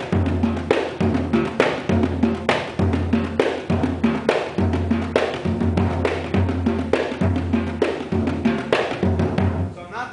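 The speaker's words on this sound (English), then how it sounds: "I'm going to play this on the drums because that's the way they played in Senegal." A drum kit is played in a Senegalese-style rhythm, with steady repeating low drum hits and cymbal wash forming a dense, continuous groove that is close and loud throughout.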